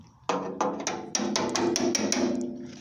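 Hammer tapping the fuel sender locking ring round on a Land Rover Defender 110/130 fuel tank: about eight sharp metallic taps at a steady, quickening rhythm, close and clear, with no talk.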